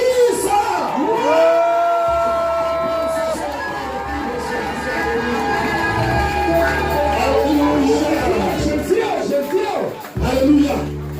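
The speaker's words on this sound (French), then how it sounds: "il faut compenser cela par des cris de joie et des acclamations" A church congregation at a worship gathering cheering and shouting with joy, loud sustained whoops and cries over low music, with a voice rising above the crowd.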